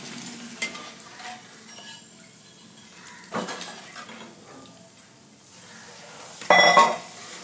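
Laddu mixture is stirred and lightly fried in a pan, with a soft sizzle under intermittent scraping strokes and a louder clatter of a utensil against the pan near the end.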